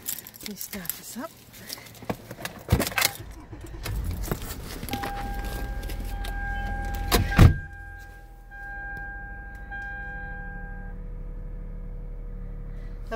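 Keys jangle and the ignition whirs as a 2012 Toyota Highlander is started up, settling into a steady low idle hum after a few clicks and thunks, with a voice speaking over the start.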